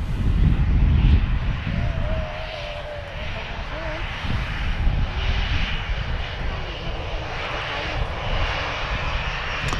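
An EasyJet Airbus A320 arrives at Manchester Airport, a steady, moderately distant jet engine roar with a faint rising whine, with a voice briefly speaking over it.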